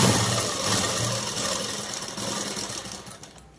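A sewing machine runs steadily while stitching a blouse hem with a loose stitch, giving a close, continuous whirring mechanical hum that fades slightly toward the end.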